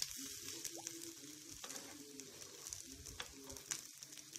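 Snacks made from dosa batter sizzle steadily in hot oil, a soft continuous crackle with faint bubbling and occasional pops, close by and without talk.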